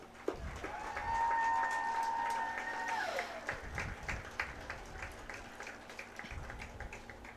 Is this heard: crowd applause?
yes